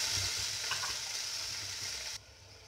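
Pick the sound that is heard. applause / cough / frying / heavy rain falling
frying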